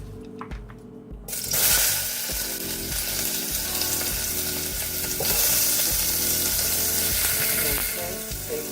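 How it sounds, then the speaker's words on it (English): Onions and red peppers sauté in oil in a pan, a loud, dense sizzle that surges up after a brief scraping start and holds steady and close throughout, with stirring clatter underneath and no talking. "I'm gonna saute my onions and red peppers here"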